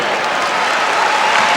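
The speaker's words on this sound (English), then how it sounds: "Conlon coming out of the game now for LaSalle. Gets a nice ovation from the crowd" Steady crowd applause at a 1989 college basketball game between La Salle and Florida State, an ovation for a La Salle player leaving the court, sustained and dense throughout with no pauses.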